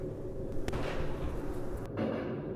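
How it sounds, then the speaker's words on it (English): Muffled gunfire booms from a distance, a couple of dull reports rising over a heavy, continuous rumble. "Oh, gunfire, what's going on?"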